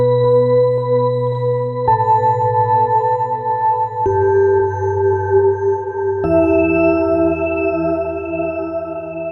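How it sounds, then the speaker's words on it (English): An ambient synth arpeggio patch built from two detuned sine waves, an octave apart, with chorus, delay, phaser and reverb, plays steady sustained tones that shift pitch every couple of seconds, alone and clean. "So now I'll show you the Arp sound that I made."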